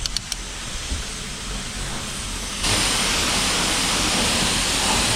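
A pressure washer rinses soap off a car at home, a steady close roaring spray that jumps louder partway through and then holds as a constant rushing hiss.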